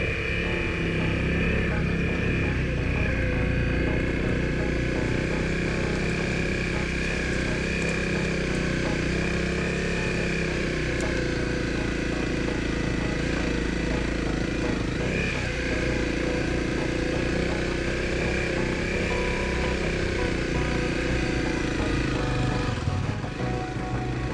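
A Honda CRF250L motorcycle descends a steep off-road hill, its engine droning steadily and fairly loud throughout with slight rises and falls in pitch, no voices.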